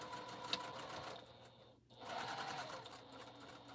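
A sewing machine stitches binding onto an African map quilt, running steadily in close, continuous bursts with a brief pause midway before resuming.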